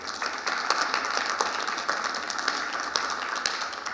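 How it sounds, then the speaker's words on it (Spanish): Applause from a small audience greeting online viewers at a talent-themed event, a steady patter of many hands clapping at moderate volume with a few sharper claps standing out, no voices over it. "with this applause"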